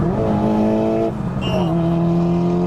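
Car engine droning while driving down the road, a steady loud hum with a pitch shift midway as it changes speed, heard from close inside or beside the vehicle.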